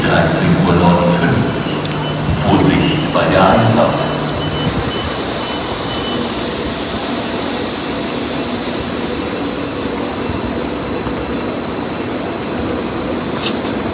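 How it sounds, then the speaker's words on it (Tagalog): A train arrives at a station on the Kiel to Hamburg route in Germany, its wheels rumbling and a high pitched tone hanging over the noise, louder at first and then settling into a steady roll, with brief voices early on. "Tumating na yung train namin."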